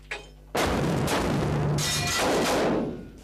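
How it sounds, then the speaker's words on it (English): A stun grenade goes off with one sudden loud blast, then a long roaring rumble that slowly fades over a few seconds, with no voices. "this is the stun grenade that we use. Disorientates not only by the sound it gives, but it gives a large flash"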